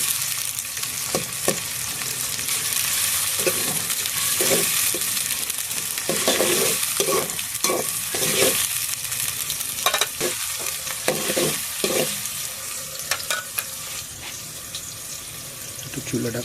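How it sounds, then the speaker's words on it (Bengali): Spice paste is stirred as it fries in a pan at home, a steady sizzle running throughout with repeated scraping strokes of the spoon, close and fairly loud. "পেস্ট লাল হয়ে লাল বানানোর জন্য একটু লাড়া দিতেছি"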